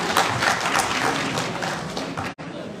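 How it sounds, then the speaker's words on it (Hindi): Audience applause at a homeopathy awards ceremony in Uttar Pradesh, dense crowd clapping throughout, loud and steady, cutting off briefly near the end. "इसके लिए भी एक बार जोरदार ताली बजाइए।"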